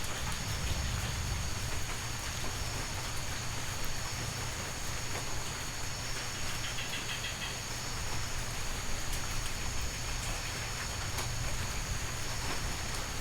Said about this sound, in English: a lush jungle with rain pouring down on all of the plants